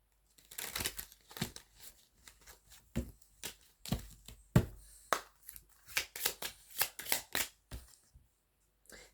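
A deck of cards is shuffled up close in a quiet room, producing a series of quick riffling and snapping bursts in an uneven rhythm, with no voice over them.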